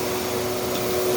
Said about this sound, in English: That's how you turn your vacuum off.